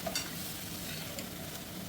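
Prawns sizzle in a pan for a gingery prawn curry as coriander powder and cumin powder go in, a steady close frying hiss with light stirring and no voices.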